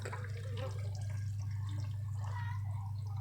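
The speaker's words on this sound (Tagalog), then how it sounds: "Ayun, lumabas yung tubig." Water draining out of a washing machine that would not drain, a continuous splashing gurgle with a low steady hum beneath, close and fairly quiet, with no talking.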